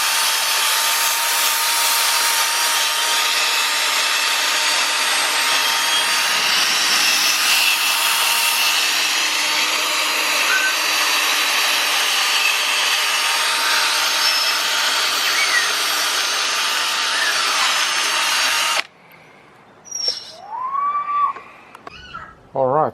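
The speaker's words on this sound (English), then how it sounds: "I'm going to use a drill and just see if I can polish it a bit." A drill-driven pad polishes a plastic vehicle headlight, giving a steady, loud, continuous whirring hum for most of the run, then cutting out to quieter handling sounds and a few brief noises near the end.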